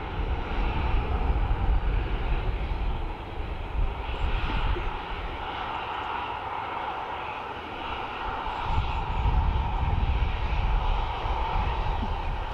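A Ryanair airliner lands at Dublin Airport, its engines a broad, loud roar that swells and eases over several seconds, heard from outdoors with no talk.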